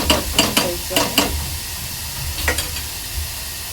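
Jaggery and grated coconut are sautéed in a pan for mango modak, a spatula scraping against the pan in a quick run of sharp strokes and then one more, over a low sizzle, close by with no speech.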